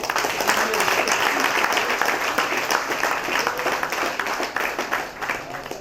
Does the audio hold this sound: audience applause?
yes